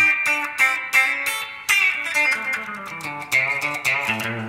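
Electric guitar playing chords and picked notes through a TC Electronic VoiceLive 3 multi-effects pedal's spring reverb, with a splashy, drawn-out reverb tail; no voices.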